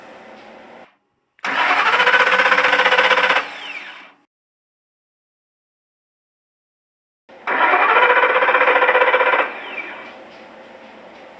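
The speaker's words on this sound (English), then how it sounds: "So right there on the starter test, and this was just brief, I didn't run the starter for a long time" A Harbor Freight 61747 battery load tester drives a car engine's starter in two separate bursts of about two seconds each. Each burst is a loud, steady cranking whir, with quiet stretches before, between and after.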